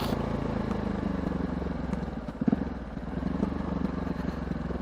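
KTM 690 SMCR single-cylinder motorcycle engine running steadily while riding, a continuous low droning hum with a brief louder surge midway, no talking over it.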